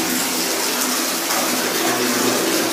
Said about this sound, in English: the water's pouring into that holder.